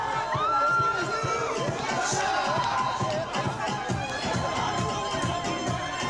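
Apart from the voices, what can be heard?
Yuva Sena supporters celebrating outside Matoshri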